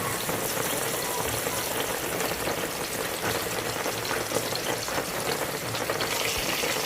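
Curry leaves crackle and sizzle in hot coconut oil, a dense, steady hiss with fine popping that holds evenly at moderate volume throughout.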